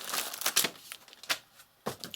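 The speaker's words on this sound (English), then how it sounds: "Some papers fell down." Paper packaging material from a Lenovo IdeaPad Flex 5 laptop box tossed onto a floor, giving a few separate crinkling, rustling bursts with short pauses between them, close by and fairly soft.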